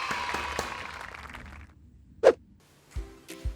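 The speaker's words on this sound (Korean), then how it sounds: "박수치고 마무리할까요?" A small group of children clap briefly to close a science class, a short close burst of clapping followed by a pause and a few scattered single claps.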